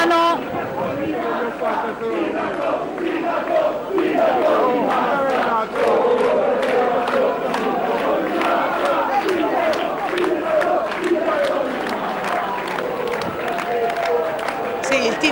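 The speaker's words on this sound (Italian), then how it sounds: "Il tifo è evidentemente da stadio" A stadium-style crowd of supporters cheers and chants at a municipal runoff election celebration in Massa, a loud, dense, continuous roar with rhythmic shouts and a voice talking over it throughout.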